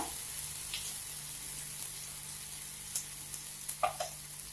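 Chili paste (mirchicha kharda) sautéing in a pan for cut vada gives a faint, steady frying hiss, with a few soft stirring clicks toward the end and no voices.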